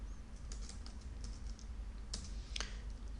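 Typing on a computer keyboard to enter a network command, with scattered clicky keystrokes in short bursts over a steady background hum, fairly close and alone without speech.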